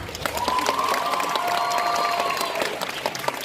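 An audience applauding a contestant at a cosplay contest at a Japanese culture event in Nantes, steady mid-level clapping from a crowd throughout, with a faint tone wavering in the background.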